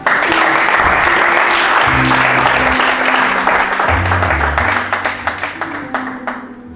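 A congregation at a church service applauds and cheers, a dense sustained wall of clapping with some voices that thins into scattered claps toward the end.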